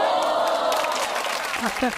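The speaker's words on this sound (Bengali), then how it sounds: "ওনার জন্য একটা হাততালি" A classroom of students gives brief, loud applause for a classmate, with a few voices mixed into the clapping and a short vocal sound near the end.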